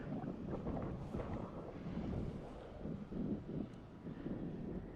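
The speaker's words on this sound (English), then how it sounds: "it's quite breezy today" Steady breeze of about 16 km/h buffets the microphone outdoors while a Phill-RC Baby Hawk II HD drone flies, a continuous low rumbling wind noise that swells and dips throughout with no voices.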